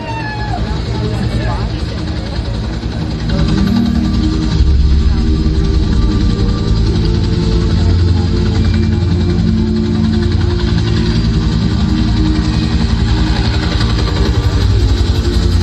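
Helicopter blades beat out a continuous low, rumbling wop-wop pulse at a live Key West tribute concert, loud and sustained throughout, with a voice talking over it.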